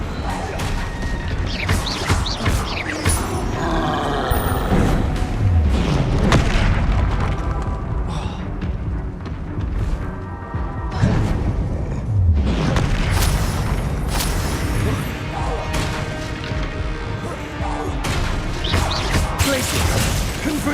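Spell blasts and explosions in Hogwarts Legacy on PS5: a steady roar of magical combat with repeated booming impacts and crashes layered over dense game sound, with a voice speaking intermittently underneath.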